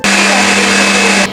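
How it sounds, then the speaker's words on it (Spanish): A kitchen blender whirs steadily and loudly while mixing cake cream, running continuously for just over a second before cutting off. "Y lo va a poner en la licuadora."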